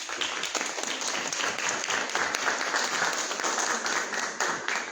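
Audience applause at a spiritual formation gathering, a steady dense wash of many hands clapping for the full length, even in level with no voices.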